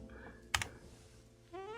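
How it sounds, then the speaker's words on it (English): Quick burst of computer keyboard typing during a livestream search for Mamiya medium format lenses, a few fast clicks close by over a quiet room, followed by a brief voice. "Typing too fast."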